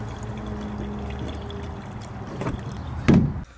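Shell Rotella diesel exhaust fluid poured into a Ram 2500 Cummins turbo diesel truck, heard as a quiet glugging trickle over low background noise that ends in a brief louder splash and clunk.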